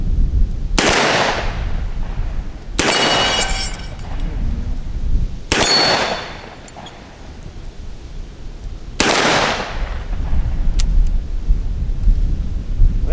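Four loud, sharp revolver shots from a Ruger Security Six fired double action outdoors, spaced a few seconds apart, each with a booming echoing tail and no talking in between.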